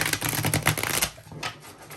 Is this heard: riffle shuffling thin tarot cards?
yes